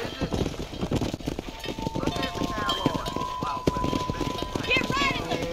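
Horse hooves clip-clopping at a run while riding through a cattle drive in the video game Red Dead Redemption, a rhythmic galloping beat with livestock around, heard under steady talking from a player.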